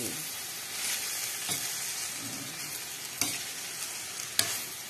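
Vegetables sautéing for ginisang gulay, a steady close sizzle with scraping stirs and a couple of sharp clinks of utensil on pan, no talking.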